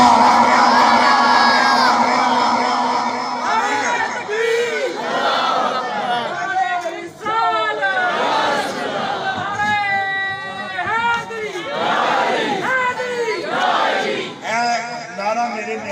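A large crowd at a religious speech loudly chants slogans in unison, with many raised voices and whoops surging in repeated waves that fill the whole stretch with little pause.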